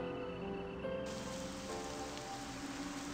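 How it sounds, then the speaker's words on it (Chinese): Rain falls in a video game, putting out a fire: a steady soft hiss of rainfall with a constant low background tone, the texture brightening and thickening after the first second. "火灭了，因为天上下雨了呗"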